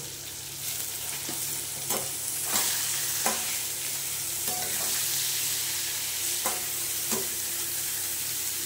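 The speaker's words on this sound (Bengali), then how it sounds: "এবার দিয়ে দেবো গোবিন্দভোগ চালটা, এটা দিয়ে একটুখানি কষে নেব।" Gobindobhog rice is stir-fried in a pan with turmeric for a pointed gourd curry, a constant hissing sizzle with sharp spatula scrapes every second or so, near and clear, with no voices.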